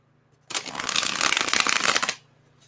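A tarot card deck is riffled and shuffled up close for about one and a half seconds, a dense papery flutter with no talking over it.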